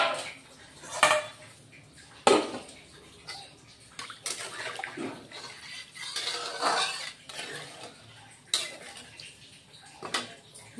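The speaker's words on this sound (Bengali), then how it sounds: "এই যে বন্ধুরা জল দিয়ে দিচ্ছি।" Water pours into a pan of Bengali fish curry with mustard paste, splashing in bursts among clinks of metal utensils and pots, fairly quiet and close.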